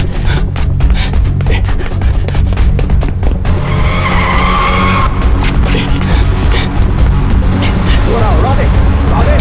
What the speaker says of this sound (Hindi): चल चल चल गाड़ी चला जल्दी।